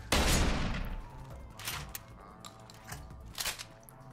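Gunfire in the video game Deus Ex: Human Revolution: a loud close burst of shots opens, then several fainter single shots and impacts follow at uneven intervals.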